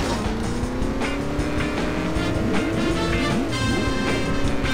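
Engine of a town car driving in The Simpsons: Hit & Run, a steady revving drone with rising and falling gear-shift sweeps, loud and continuous with no talking.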